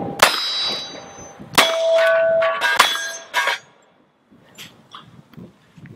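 .45 ACP rounds from a Ruger New Vaquero single-action revolver striking steel targets, producing several loud ringing clangs spaced a second or so apart, each ring decaying, with fainter pings trailing at the end.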